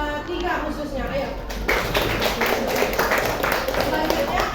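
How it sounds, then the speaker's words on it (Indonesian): Audience applause for presenters and group 3 at a classroom presentation, a sustained burst of clapping that starts partway through and carries on steadily, mixed with a speaking voice. "beri tepuk tangan untuk pemateri dan kelompok 3 khususnya"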